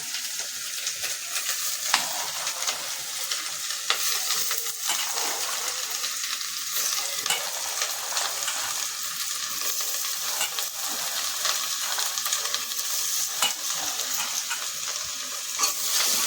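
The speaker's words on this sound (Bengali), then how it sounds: "এবার আমি মটরটা দিয়ে দেবো।" Peas being stir-fried in a pan for vegetarian Bengali ghugni, with no onion or garlic, give a steady close sizzle and frying hiss, punctuated by the scrape and clink of a spatula stirring throughout.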